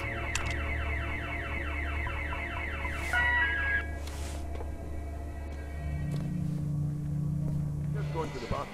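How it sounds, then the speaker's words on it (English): An alarm blares in the video game The Occupation, a loud repeating electronic wail with rising sweeps that later shifts to a steady low drone, while a voice talks over it. "Who set this alarm off?"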